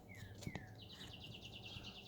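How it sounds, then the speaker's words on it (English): Cardinals chirp in the background, a faint series of quick repeated bird notes that keeps going over a soft, steady ambient hiss. "Got the cardinals are chirping away"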